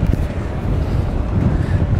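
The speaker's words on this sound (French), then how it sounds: "Malheureusement, il y a beaucoup de vent." Strong wind buffets the microphone in a steady, rough roar aboard a superyacht, with faint water and boat noise beneath and no talking.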